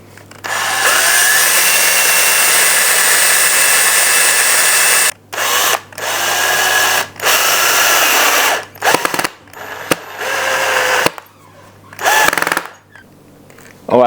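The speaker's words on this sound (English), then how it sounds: "I just drilled this in here." A power drill boring into a plant and grow light stand, loud sustained whirring bursts close up, stopping and restarting several times with short pauses between runs.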